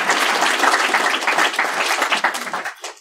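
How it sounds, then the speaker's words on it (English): Audience at a security conference's closing session claps together, dense and lively applause that holds steady and then tapers off toward the end. "Yeah, you can clap yourselves."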